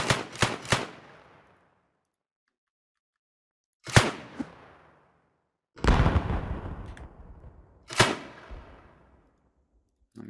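Grenades explode in the video game Project Freefall, one after another: a quick burst of blasts opens, then three more separate booms follow, each sharp and loud with a fading tail, and no voice.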